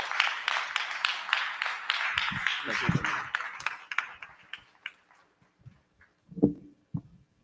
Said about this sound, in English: Director Reggie Moore, please give him a round of applause.